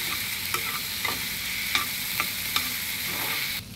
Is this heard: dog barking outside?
no